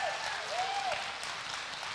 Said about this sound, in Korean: 우리 합창단 다시 한번 뜨거운 박수 하겠습니다.